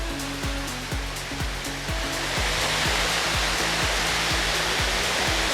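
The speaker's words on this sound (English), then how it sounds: "The water is flowing." The waterfall at Kooi in Royal Belum forest, Malaysia, gives a loud, dense, continuous roar of rushing water, close and steady, with a repeating low mechanical pulse beneath it.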